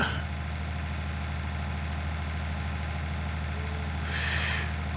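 A tractor engine in Farming Simulator 19 idles with a steady low drone and a faint higher whine rising near the end.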